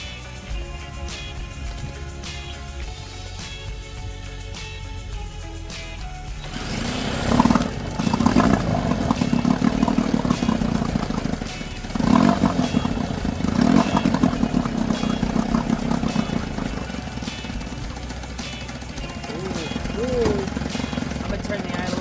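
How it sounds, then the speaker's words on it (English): A restored childhood boat's engine runs and idles, a steady rumbling drone that swells louder as the idle is raised, with brief revving bursts and a person talking over it. "I'm gonna turn the idle up just a little bit more here."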